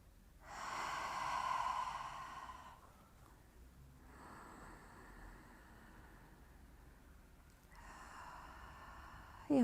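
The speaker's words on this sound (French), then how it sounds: "Et on prend 4 respirations." Slow, deep breaths are taken during a Pilates exercise: a long audible inhale, a quieter hold, then another drawn-out breath, all close and soft in a quiet room.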